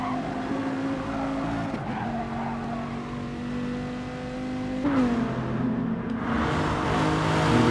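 A Dodge Viper race car in Gran Turismo Sport at Interlagos roars loudly, its engine note sweeping up through the gears, then dropping sharply before climbing again with tire squeal.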